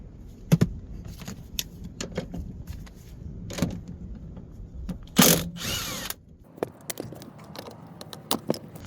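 A ratchet clicks in quick bursts while loosening 13mm seat bolts on a Hyundai Santa Fe CM, close and fairly loud, with metallic clatter and a longer whirring burst midway, no talking.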